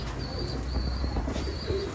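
Racing Baghdadi pigeons and their young in a home loft coo steadily in low, throaty murmurs, several birds overlapping close by with a faint high whistle drifting above.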